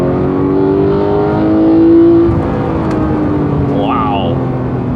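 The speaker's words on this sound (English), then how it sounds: "then you fire it up, get on that gas, hear that induction noise" Porsche 991.2 911 GT3 engine pulling hard with strong induction noise, a loud, close, rising mechanical howl as the revs climb steadily, with a brief sweeping whine near the end.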